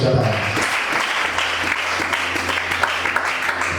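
A church congregation claps and applauds in a steady broadband wash, loud and continuous through the whole stretch, with a faint low hum running beneath the clapping.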